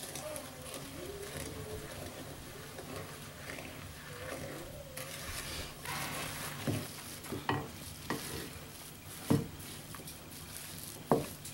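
Wet and dry ingredients are stirred together into a thick dough in a bowl, giving soft, continuous scraping and mixing noises with a few sharper knocks near the end, all fairly quiet with faint background sounds.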